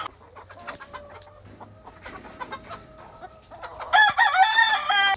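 Gamefowl hens in a yard cluck in short scattered calls, with steady background chatter, until a loud, close rooster crow rings out near the end.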